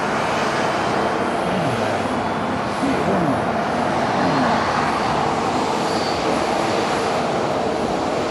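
Haneda Airport monorail train running into town, a steady rumbling and rolling noise with a brief rise in the middle, heard alongside airport engine noise.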